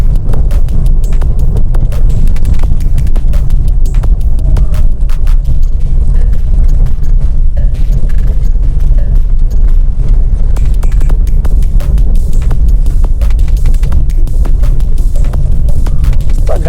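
A car on the Mumbai–Goa highway gives off a loud, constant low rumble and rattle while driving, with dense clicking and buffeting wind noise steady throughout and no talk.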